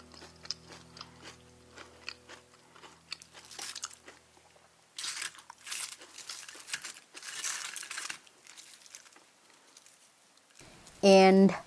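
Crunchy bites and chewing on a crispy fried regular Cavendish banana, several close crackling bursts in succession, with some faint talk early on and a short tonal sound at the end.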